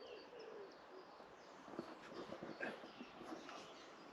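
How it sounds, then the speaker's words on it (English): Faint birdsong in the trees, soft chirps and a distant cooing call over quiet outdoor ambience. "Hear the birds in the trees."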